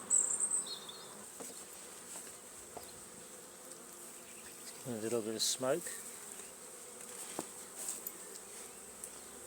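A swarm of honey bees drones steadily around a WBC hive, a low, continuous buzz with a few louder passes close by, while a person speaks briefly.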